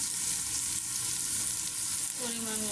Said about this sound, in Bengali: মশলাগুলো কষায় নেব ভালো করে। দেখুন আমি মশলাগুলো কষায় নিয়েছি।